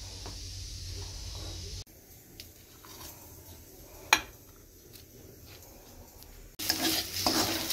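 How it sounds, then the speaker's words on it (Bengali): Two pea-stuffed parathas frying in a pan, giving a quiet, continuous sizzle and hiss with soft scraping and one sharp utensil clack against the pan midway, without any talking. "এখন ওই মটরশুঁটি পুর ভরা 2টো পরোটা বানাচ্ছি"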